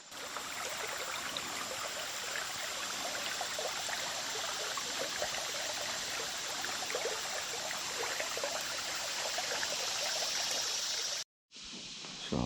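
Steady rushing and trickling of a shallow creek near where two creeks meet in a Georgia wildlife management area, continuous and close, with a brief dropout near the end.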